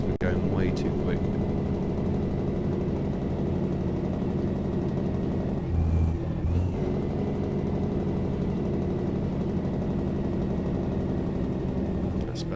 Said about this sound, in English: put the old Jake brake on